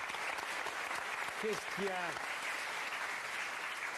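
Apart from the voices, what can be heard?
TV studio audience applause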